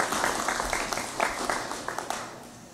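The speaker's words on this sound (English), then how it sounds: "Let's give him a round of applause." An audience at a legislative special session breaks into a dense burst of clapping that fades over a few seconds, with a voice faintly underneath.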